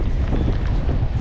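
Wind gusts across an open lake during a white bass fishing outing in North Dakota, a steady low rumbling buffet against the microphone with no voices.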